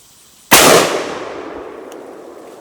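A single loud gunshot from a rifle fitted with a Feyachi holographic sight, fired at a shoot-and-see target outdoors, with a sharp crack followed by a long fading echo.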